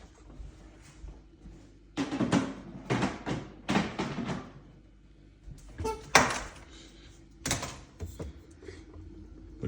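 Drawers being pulled and lifted out of a Samsung French door refrigerator, a series of loud plastic scrapes, thumps and clunks in bursts, close by, with no talking.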